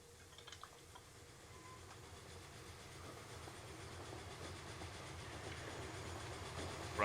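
A train runs in the Transport Fever 2 rail-sim game, a steady rolling rumble with faint rail clatter that slowly grows louder over several seconds, with no talking.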